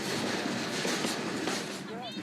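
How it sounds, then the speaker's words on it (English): Mexican freight train known as 'The Beast' rolling and gathering speed, a steady close rumble of wagons with faint wheel clatter and a thin squeal near the end, voices faintly mixed in. "Moving around comes at a risk as the train picks up speed."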